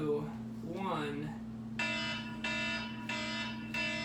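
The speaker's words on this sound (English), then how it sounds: "Fire alarm!" A fire alarm blares in repeated loud electronic bursts, about four evenly spaced pulses, following a stretch of voices talking over a steady hum.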